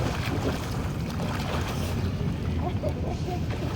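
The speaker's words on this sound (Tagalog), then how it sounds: "Siyempre mahangin eh." Steady wind buffets the microphone with a constant low rumble, with faint voices briefly audible underneath.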